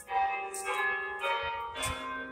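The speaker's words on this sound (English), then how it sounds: "Yeah, that's the bell" Church bell tolling right nearby, several loud clanging strikes with sustained humming overtones overlapping one another, alone without voices.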